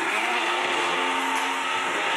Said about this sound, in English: get the blender going